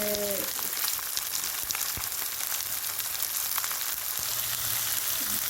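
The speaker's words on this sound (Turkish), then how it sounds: "Sotelemeye devam. Evet, iki su bardağı bütün mercimeğimizi katıyoruz." Onions and oil sizzle steadily in a pan with whole lentils added, a dense, even frying hiss with a few clinks of a utensil, close by and with no talk.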